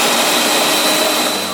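A blender whirs at full power mixing citrus juice and water, a loud, dense motor roar lasting under two seconds that tapers slightly at the end.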